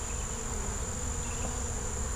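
Honeybees hum and buzz steadily around a hive during a June swarm inspection, a dense continuous drone close by with no pauses.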